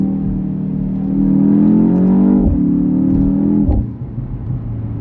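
A 2025 BMW X2 M35i with a four-cylinder engine revs inside the cabin, a loud steady engine drone climbing in pitch, broken by two short abrupt pops and drops from synthesized exhaust sounds played through the speakers.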